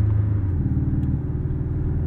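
A 2017 Porsche 718 Cayman S exhaust in sport mode rumbles deeply and steadily from inside the cabin, a low throaty drone with slight pulsing.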